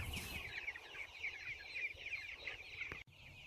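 Chickens cluck steadily at feeding time in a busy, overlapping chorus, with a short sharp knock near the end.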